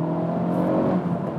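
A 2018–2019 Honda Civic Type R FK8 engine blips up during a rev-matched downshift, a loud, close, continuous buzzy rev with no talk over it.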